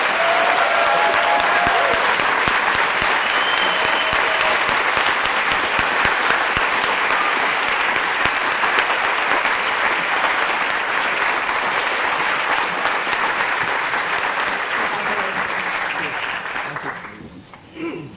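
An audience at the Greater Concord Chamber of Commerce Pinnacle Awards applauds the Small Business of the Year winners, a loud, dense, continuous wash of clapping that holds for many seconds before tapering off near the end.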